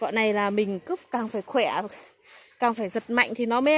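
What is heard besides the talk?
No everyday noise stands out behind the speech.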